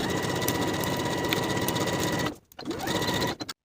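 Up close, a sewing machine runs a steady, rapid stitch along the seam of a wool jacket, pauses briefly, then resumes before cutting off.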